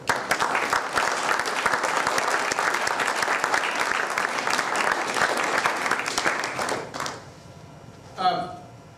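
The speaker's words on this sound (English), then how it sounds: "So go ahead and give yourselves a round of applause." At a water polo fall sports awards gathering, an audience claps in dense, steady applause for around seven seconds before it fades out, followed by a brief voice.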